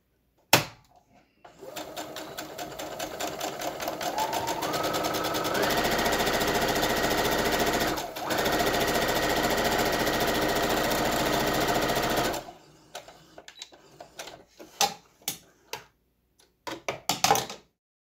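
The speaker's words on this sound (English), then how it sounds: "now I have to sew up the fold that I ironed" A sewing machine stitches down the ironed fold of a fabric face mask, running in a loud continuous whir for several seconds and rising in pitch partway through. It stops briefly, runs again, then gives way to scattered clicks and handling sounds.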